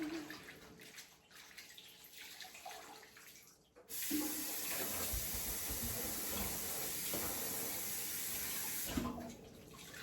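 Tap water runs into a kitchen sink while pork meat is washed, a soft trickle at first, then a strong steady hissing gush for several seconds before easing off.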